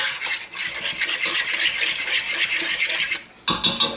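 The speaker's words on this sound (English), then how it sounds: "three-quarters of a cup of apple cider vinegar. Stir that up." Apple cider vinegar being stirred into a German potato salad dressing in a pan, a continuous brisk scraping and swishing of a utensil with a brief pause before the stirring resumes.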